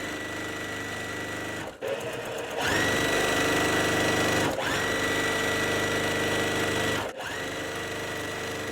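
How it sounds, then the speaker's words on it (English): Domestic sewing machine stitching fabric for a quilt block, running in steady continuous bursts with a whirring mechanical hum, stopping briefly twice between seams, close and clear with no talk. "Now I'm just going to sew"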